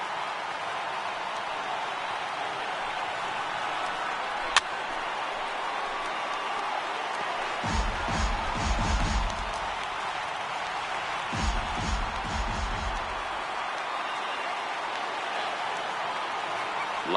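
Crowd noise from a stadium in the baseball video game MLB The Show 18: a steady wash of crowd sound with two louder swells of cheering, plus a single sharp click early on, and no clear speech.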